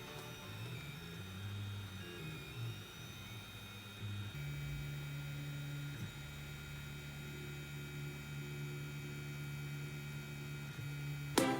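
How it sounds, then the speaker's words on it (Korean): A Pico mini 3D printer running a print, steady low mechanical hum with shifting stepper-motor tones and faint whirring, close and quiet, with a brief click at the end. "프린터 소음은 크지 않았습니다. 한번 들어보세요."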